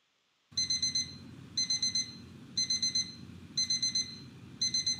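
A shrill electronic alarm in a horror video game, ringing in repeated bursts of rapid beeps separated by short gaps over a low background rumble, loud and close.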